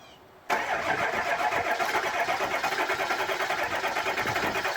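A diesel truck engine with freshly worked glow plugs cranks and fires after a brief quiet moment, then settles into a steady, loud, close-up running clatter with no talking.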